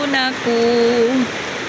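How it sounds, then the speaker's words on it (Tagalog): Steady heavy rain patters on a roof in a constant hiss while a person speaks briefly over it. "Sarap pakinggan ng patak ng ulan sa bubungan"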